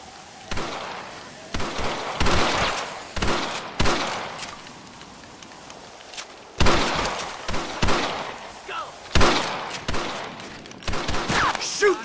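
Gunfire in Red Dead Redemption rings out in sharp, irregular bursts of shots, some rapid clusters and some isolated, separated by brief quiet gaps.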